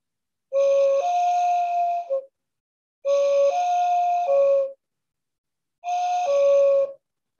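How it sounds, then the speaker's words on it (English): A cedar whistle blown three times, each blast about a second long and shifting between two tones, loud and clear with silence between blasts. "some of the whistles could have two tones out of one whistle"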